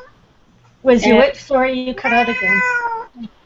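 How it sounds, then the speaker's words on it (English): A house cat meows loudly and close in a few drawn-out cries, followed by a brief speaking voice on a video call. "I have a cat actually coming at me right now."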